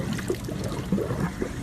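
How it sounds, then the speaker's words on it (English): Brown mineral solution for feeding grow beds is poured into a blending tank, giving a steady, close liquid trickle that runs without a break and without any voices. "This brown solution here, I'm just gonna go ahead and pour it into my blending tank."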